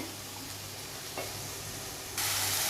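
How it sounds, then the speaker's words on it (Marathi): Onion and green chili sauté in a pan for dodka (ridge gourd) bhaji, giving a steady low sizzle with a brief stir scrape. The hiss turns louder and brighter near the end, and no one speaks. "असा कांदा आणि मिरची थोडी नरम होईपर्यंत अशी परतून घ्यायची व्यवस्थित"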